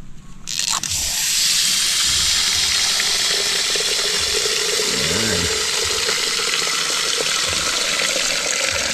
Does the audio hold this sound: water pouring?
yes